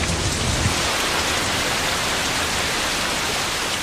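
Heavy rain pours down on Kauai, Hawaii, a dense, steady hiss of drops hitting surfaces that fills the whole stretch with no voices.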